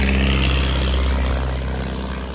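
A propeller airplane comes in to land at Popham Airfield near Winchester, its loud, steady engine drone holding close and then easing slightly.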